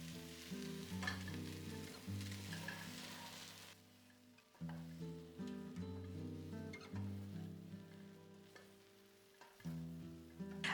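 Vegetables and potatoes coated in spices fry in a pan with a steady sizzle, broken by a few short pauses and scraping bursts as they are stirred close up.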